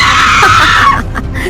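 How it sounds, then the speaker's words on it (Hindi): A woman lets out a loud, shrill, sustained scream as a story sound effect, the high wail cutting off abruptly and trailing into brief breathy fragments. "नीचे उतरकर वो कुलदीप की ओर देखकर एक अमानवीय हंसी हंसती है और जोरदार आवाज में चीखने लगती है।"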